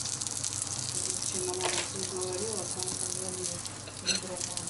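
Quiet sizzling and crackling of oil in a pan, a soft continuous hiss with a few brief pops and faint background tones.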